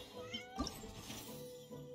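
A cat meows once, a short clear call, then softer trailing mews over low room noise, fairly quiet and close by.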